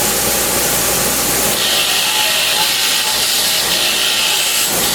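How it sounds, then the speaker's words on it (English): A wire wheel on a 6-inch bench grinder cleaning a pair of pliers gives a steady, loud broadband hiss and whir. The tone brightens and scrapes harder for most of the middle stretch while the metal presses against the bristles. "A wire wheel goes inside and cleans it."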